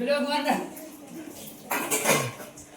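Dishes being washed by women at a birthday gathering, with clattering pots and cutlery. A few sharp clinks and scrapes come close by, and a voice talks over them.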